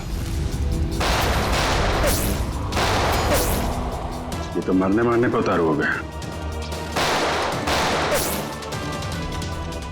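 Heavy bursts of gunfire boom repeatedly and loudly, with a shouting voice cutting in between the volleys.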